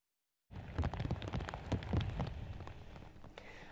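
Heavy rain falls during a thunderstorm in Bahrain, starting abruptly after a short silence and continuing as a close, dense patter with scattered louder drops.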